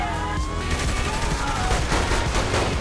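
Pistol fire in the Saints Row video game, buried in a dense, continuous wash of loud game noise with engine-like rumble and a faint siren-like tone, with no clearly separated individual shots.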